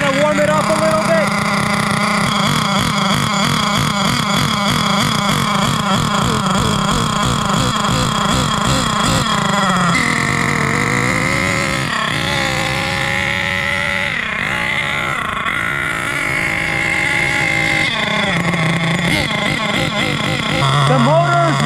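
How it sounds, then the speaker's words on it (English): HPI Savage X4.6 V2 nitro RC truck engine warming up and idling after break-in, a loud, buzzy, continuous small-engine drone that wavers in pitch, heard up close. "The motor is running super nice and cool."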